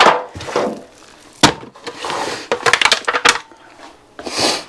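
Pork shoulder with a dry rub going into a pan for pulled pork, heard as a few sharp knocks and scrapes of meat and metal, close by with no talk.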